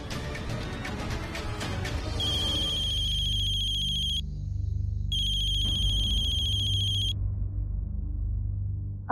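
A phone rings out on an outgoing call, a steady electronic ringback tone that comes in two long bursts with a short gap between them and then falls silent, set over a low background hum with no talk.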